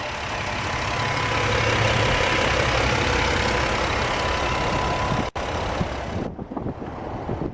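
A 2011 Jeep Wrangler Sport with a 3.8-liter V6 and six-speed manual idles steadily and loudly up close, with a brief break near the end before a quieter, rougher tail.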